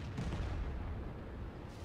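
A tank gun shot in the World of Tanks video game from a German Löwe heavy tank, heard as a single deep, heavy boom that rolls on as a sustained low rumble before fading slightly.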